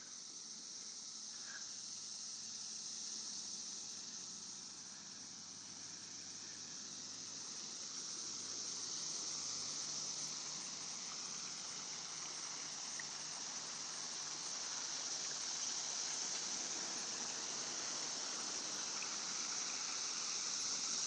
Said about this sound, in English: There's a cicada.